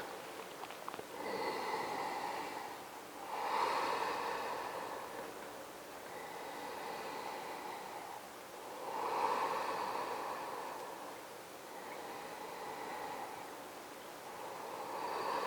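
Slow, deep breaths during a yoga forward fold, each inhale and exhale a long airy rush, repeating in a steady rhythm, close and alone.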